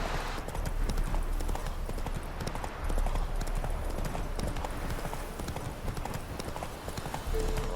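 Roach, a horse in The Witcher 3 video game, gallops with rapid, continuous clip-clop hoofbeats at close range, a steady driving rhythm under faint background game ambience.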